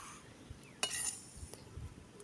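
Roasted sesame seeds scraped and tipped from a pan onto a plate in a village kitchen: a couple of faint clinks and a brief scrape, quiet and close, with a soft murmur of background noise.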